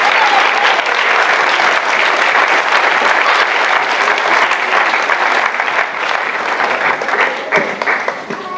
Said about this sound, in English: Give a nice round of applause to Jackson Ravenhold and Joseph Kane.